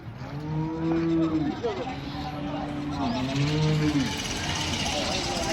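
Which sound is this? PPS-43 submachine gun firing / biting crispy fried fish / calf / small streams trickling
calf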